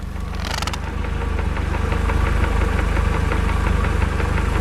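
A Mercedes 124 idles with a knocking fault in its gearbox: a rapid, even mechanical tapping rides over the steady low engine hum throughout, close and continuous, with a brief whine near the start.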